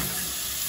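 Frozen mushrooms sizzling in melted butter in a skillet over medium heat, a steady, close hiss of frying with a bright crackle throughout the brief moment.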